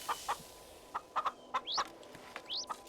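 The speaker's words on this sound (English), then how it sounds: "Noisy chicken." A chicken in Skyrim clucks in a quick run of short, bright calls with a couple of rising squawks, close and clear with no talk over it.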